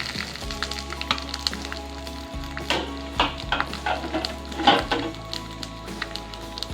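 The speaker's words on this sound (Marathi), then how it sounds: "गॅसच्या लो मिडियम फ्लेमवरती हे सर्व दाणे चांगले भाजून घ्यावेत चांगले भाजून घेतले दाणे पहिले हलवत राहावं" Peeled corn kernels roast in half a spoon of oil over low-medium flame, crackling and popping softly while a utensil stirs and scrapes the pan in uneven bursts, with a faint hum beneath.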